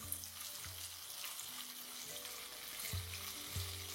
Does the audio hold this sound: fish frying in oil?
yes